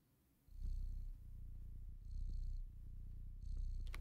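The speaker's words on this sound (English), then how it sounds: "Listen to the sweet kitty sleeping sound." A sleeping cat purrs softly and steadily, with rhythmic breathing cycles of rumbling inhale and exhale heard close and alone.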